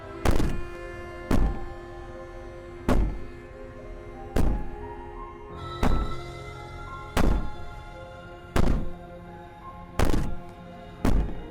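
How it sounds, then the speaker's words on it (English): Banging on a cabin door in the video game Slay the Princess: heavy, evenly spaced thuds, about nine loud blows roughly every second and a half over a low droning background. "Maybe the banging and wailing will stop if you just don't pay attention to it."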